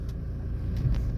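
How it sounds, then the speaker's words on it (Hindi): An automatic car creeps forward as the brake is released, a low steady engine and road rumble that stays even and close throughout, with no voices. "सिर्फ ब्रेक को आप रिलीज करोगे तो आपकी गाड़ी जो है आगे बढ़ेगी"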